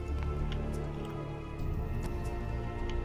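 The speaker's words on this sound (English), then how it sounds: "The rain's still coming strong and it's clean." Rain falls steadily in the survival video game Sheltered, a continuous hiss of drops with scattered pattering ticks over a constant low hum, with no talking over it.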